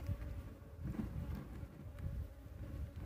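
Honeybees swarming during a capture and comb transfer at a rural site, a steady dense buzz filling the air, close and continuous with no pauses.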